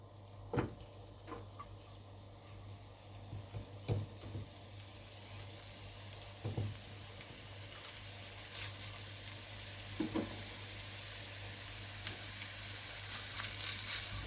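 Pumpkin pieces frying in a pan for pasta with pumpkin: a steady, soft sizzle runs throughout, broken by a few sharp clicks and scrapes of stirring.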